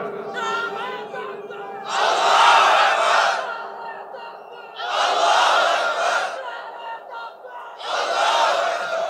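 A crowd at an Islamic religious sermon gathering roars slogans in unison, three loud surging bursts separated by short quieter gaps.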